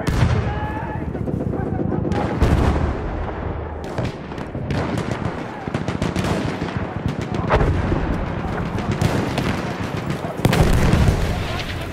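Dense, loud machine gun fire rattles almost without pause through a Battlefield 1 conquest battle in the Suez desert, with heavy booms and artillery-like blasts layered over the rapid bursts.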